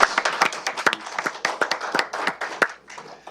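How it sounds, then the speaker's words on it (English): A small group at a county board of health meeting claps briefly, a sparse close run of distinct hand claps with uneven rhythm in a quiet room. "So I'm going to clap for that."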